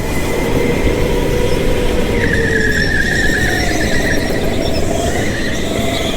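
Go-kart sliding and skidding without traction, a continuous loud scraping rumble with high squealing tones from the tires running through the whole stretch.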